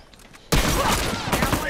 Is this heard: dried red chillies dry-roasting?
no